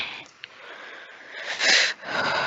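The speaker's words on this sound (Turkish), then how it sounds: "Nefes almanı filan her şeyi duyuyoruz." Loud breathing through the nose sounds right up against a microphone during a game voice chat, with soft airy sniffs at first and then two strong, rough breaths near the end.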